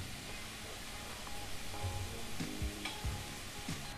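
Spinach tossed into a pan of caramelizing sugar and rhubarb gives a dense, even sizzle with soft stirring scrapes and occasional low thuds of leaves being moved, at moderate volume throughout.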